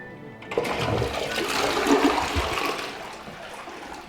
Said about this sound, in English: first real flush